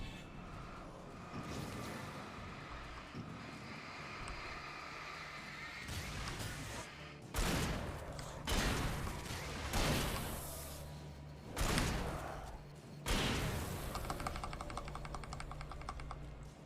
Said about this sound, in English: I'm pretty sure I'll be okay just using the shotgun here